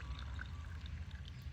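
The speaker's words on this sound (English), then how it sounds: "so we're pouring out our lovely tea" Blue vervain and chanca herbal tea being poured out, a soft, continuous trickling stream with a low rumble underneath, quiet and steady with no speech.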